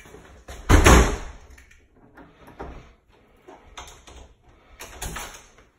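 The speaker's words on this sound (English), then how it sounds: "Lock this door before I forget." A house door in a residential home swings shut with a firm thud, followed by softer clicks and rattles of the lock being turned, ending with a last latch sound; close and fairly loud, with no talking.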